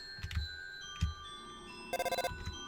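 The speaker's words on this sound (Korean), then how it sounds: "따르릉 따르릉" An old-style telephone bell in the video game Undertale rings in a short burst of rapid trills, preceded by a few soft thumps from the game, heard on its own without speech.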